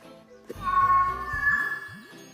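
A cat's meow played back from a sound jar recording, one drawn-out tonal cry lasting about two seconds, clear and close, with a faint tinkling around it and no talk.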